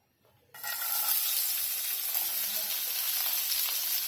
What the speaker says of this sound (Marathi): तेल गरम झालं ना की कांदा टाकून घ्यायचा आहे